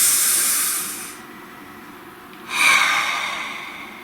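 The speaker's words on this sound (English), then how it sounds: "Nice deep breath." A long, deep breath through the nose, a loud airy inhale that fades, a short pause, then a strong breathy exhale close to the microphone.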